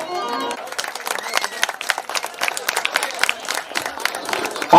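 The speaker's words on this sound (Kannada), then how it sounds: "ಚಪ್ಪಾಳೆ ಮೂಲಕ ಅಭಿನಂದಿಸಬೇಕು" A crowd at a stage drama program applauds an LKG child performer after a Hanuman Chalisa recital, with dense, steady clapping sustained throughout and scattered voices mixed in.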